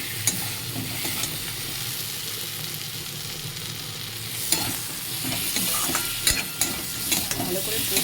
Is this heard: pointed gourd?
yes